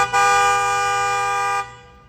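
A car horn blares in a city street where a van is double parked, one long steady honk of about one and a half seconds, loud and close, then cut off abruptly.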